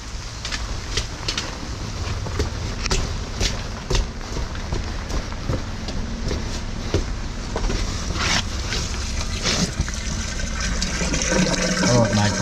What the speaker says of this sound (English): Can you flush that toilet with a whole heap of paper?